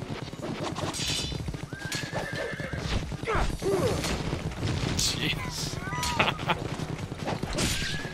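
Horses whinny and neigh repeatedly over thudding hooves and clashing battle noise in the video game Ninja Gaiden Sigma, a dense, loud in-game soundscape with several overlapping neighs.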